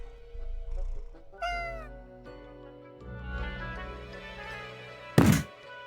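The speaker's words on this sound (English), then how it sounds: "Look at this cute video of angry cat eating grass and meowing at the same time." An angry cat meows repeatedly while eating grass, with harmonic yowls rising and falling close by, a loud falling cry early on and a sharp thump near the end.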